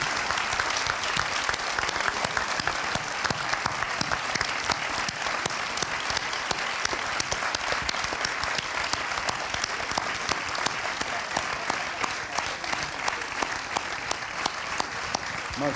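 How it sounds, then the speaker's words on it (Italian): Audience applause at an event honoring a film director and actor, a dense, sustained crackle of many hands clapping steadily for the whole stretch, moderately distant with no speech. "possiamo congedarci con un grande applauso per Gianni Amelio e Luigi Locascio."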